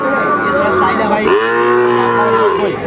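A young bull calf at a cattle market lets out a loud, drawn-out moo, close and clear above low background market noise.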